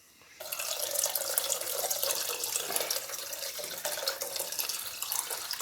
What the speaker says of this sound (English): I want the seitan to be covered